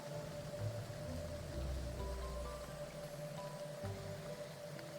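Rain in the video game Graveyard Keeper makes a soft, continuous hiss of falling drops, fairly faint and steady throughout, with a low hum and a few tonal game sounds underneath.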